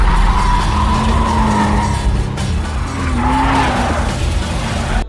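Tires skid and squeal as a car drifts in a street-racing film scene, a loud continuous screech with a wavering tone that holds for about five seconds, backed by engine roar and no talk.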